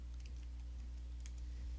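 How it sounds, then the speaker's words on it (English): Typing on a computer keyboard, several soft scattered key clicks in quick irregular succession over a constant low electrical hum, close by, with no talking. "Typing."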